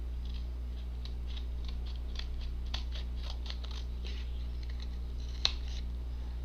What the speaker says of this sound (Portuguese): nós vamos fazer pequenos cortes com uma tesoura apropriada